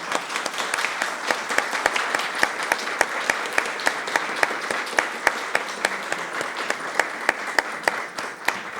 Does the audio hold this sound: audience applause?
yes